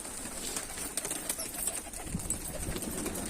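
Pigeons released from a rooftop, with soft cooing and a few bursts of wing flaps over steady outdoor noise and faint background hiss.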